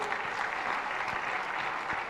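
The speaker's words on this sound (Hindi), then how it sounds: "जरा जोरदार तालियां" Audience applause at a Jain religious discourse gathering honouring paintings of revered monks, a steady dense clapping that holds evenly at a fairly loud level for about two seconds with no voices over it.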